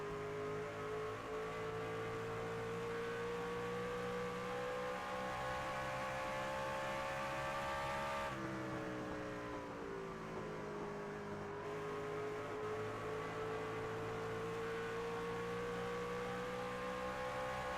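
Race cars drone steadily on an oval track in a sustained multi-engine whine, pitch dipping and rising as the pack runs together, continuous and fairly distant with no speech.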